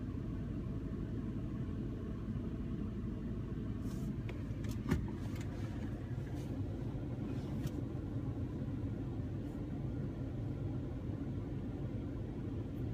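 Steady low rumble of a car's engine and road noise heard from inside the moving vehicle, continuous and even throughout, with a few faint clicks and no speech.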